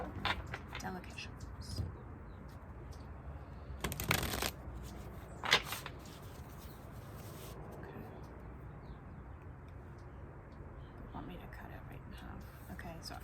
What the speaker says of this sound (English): I'm gonna give it maybe 1 or 2 more shuffles.